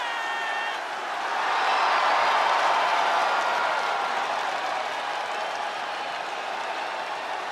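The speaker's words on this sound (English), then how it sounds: "Listen to this ovation. The WWE Universe loves cheering on the EST." A large arena crowd from the WWE 2K24 wrestling video game roars in a sustained ovation, cheering and applause swelling after the first second and holding loud and steady throughout, with no talk over it.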